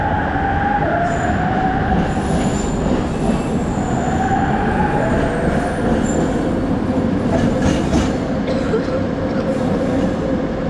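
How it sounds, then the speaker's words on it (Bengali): A train pulling out of KL Sentral station in Kuala Lumpur, heard from on board as a loud, continuous rumble with rising electric whine and squealing wheels. "জাস্ট আমরা উঠলাম আর ট্রেনটা ছেড়ে দিল।"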